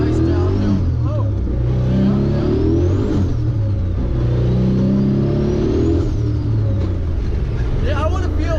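A 1000 rwhp big-turbo car accelerates hard, its loud engine droning and rising steadily throughout with a turbo whistle over the top, while people talk over it inside the cabin.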